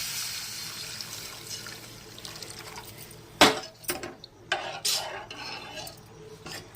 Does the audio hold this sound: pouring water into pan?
yes